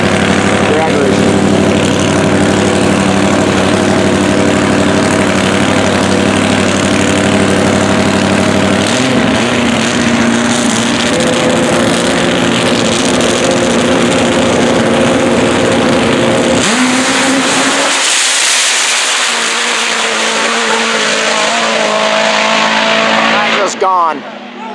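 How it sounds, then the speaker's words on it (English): Pro Extreme drag bike roaring loud and close at the line, a sustained high-revving engine wail that climbs as it launches, then fades as the bike pulls away down the strip, with crowd and announcer voices underneath. "Drag racing."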